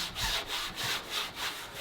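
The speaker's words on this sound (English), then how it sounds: "so I've lightly sanded everything" Steady back-and-forth sanding strokes lightly scuffing a painted trunk, rhythmic and even, a close abrasive rasp repeating about every half second.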